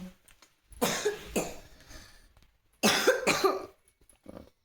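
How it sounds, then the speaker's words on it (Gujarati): A sick child coughs in two short bursts of several hacking coughs each, close by, with quiet pauses between them. "થોડીક ઉધરસ થઈ ગઈ છે"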